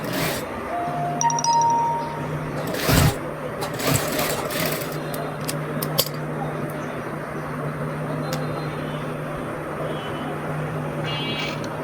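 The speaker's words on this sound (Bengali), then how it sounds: "উপরে চাপ সেলাই দিতে হবে। চাপ সেলাই দিলে কাপড়টা উল্টাবে না।" A sewing machine top-stitching fabric while sewing a small girl's frock runs in a steady mechanical hum, with a few sharp clinks and knocks over it and someone talking quietly in the background.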